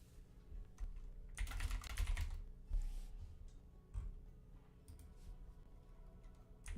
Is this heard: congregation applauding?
no